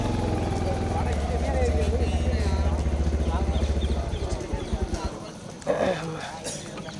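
Steady clip-clop of horse hooves plods along at a horse race under an idling engine rumble and people talking, then fades as a louder bang cuts in near the end.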